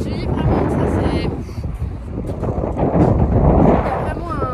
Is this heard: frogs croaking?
no